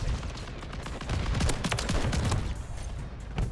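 Rapid gunfire from a Modern Warfare 3 multiplayer match, bursts of sharp shots crackling loudly over game noise for several seconds, no talk.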